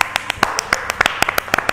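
Steady rhythmic hand clapping of encouragement during a live fan event, loud and close, with a few overlapping claps at an even pace.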